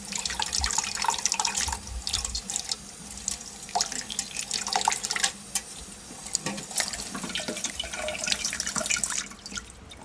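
Cold tap water runs as boiled eggs are peeled under a thin stream, shells caught in a fine strainer; a steady close splashing flow with drips and small clinks throughout.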